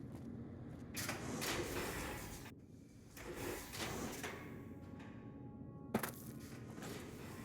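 A sliding door opens in Fallout: New Vegas, with a long mechanical grinding rush followed by a second surge and a sharp clunk as it stops, set against quiet low ambience.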